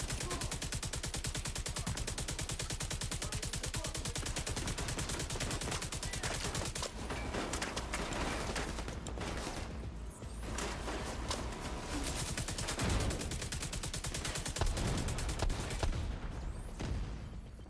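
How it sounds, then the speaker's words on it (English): Explosives and rapid gunfire in The Division 2 crackle almost continuously, a dense, loud barrage of overlapping bursts filling the whole stretch with only short dips. "There are explosives detonating everywhere."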